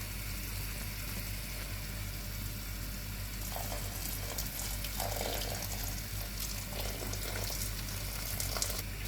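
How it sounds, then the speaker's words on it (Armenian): Boiling water poured into a pot of frying okra and meatball stew, a steady sizzle and bubbling wash throughout with a few brief splashy bursts midway, close and alone. "վրան մի քիչ եռացած ջուր կավելացնեմ"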